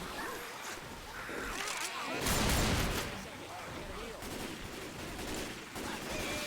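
Gunfire from weapons in the video game Left 4 Dead 2, a dense, loud, continuous barrage of shots building to a heavier burst midway, with game noise throughout.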